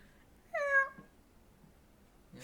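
A person imitates a cat with a single drawn-out meow, close and clear, followed by quiet and a brief noise at the end.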